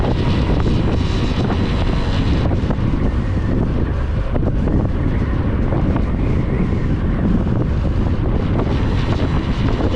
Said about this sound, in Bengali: প্রচণ্ড বাতাস